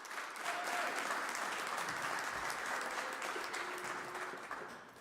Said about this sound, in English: How about a big round of applause for Mr.